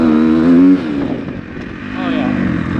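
Engine of a 250 two-stroke dirt bike revving nearby, a buzzing tone that climbs and falls over a few seconds and sounds loud and close, with what may be a voice or wind mixed in.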